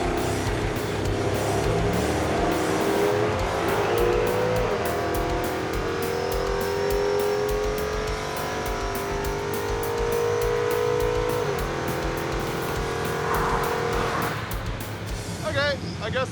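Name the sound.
pickup trucks drag racing on street tires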